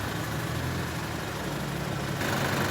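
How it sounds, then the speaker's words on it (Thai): A 2018–2019 Isuzu MU-X with a 1.9-litre DDI diesel engine idles steadily, a dense continuous rumble and clatter heard up close and alone, with no voices over it. "เสียงเครื่องยนต์นะคะ"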